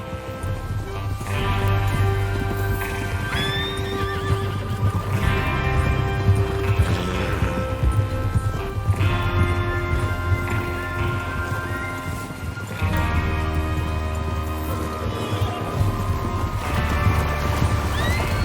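Horses in the video game Red Dead Redemption 2 whinny and clop along under a steady low rumble and background music, with hooves and neighs recurring throughout.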